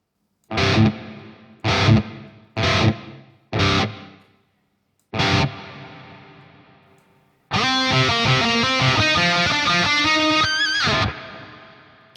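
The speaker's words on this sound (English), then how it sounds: "Let's just check out the reverb. Yeah, it's got a bit of a tail going on there." Distorted electric guitar through a Neural DSP Fortin Nameless X plugin plays several short chopped chords, each ringing out briefly, then a sustained strummed passage whose reverberant tail lingers and fades at the end.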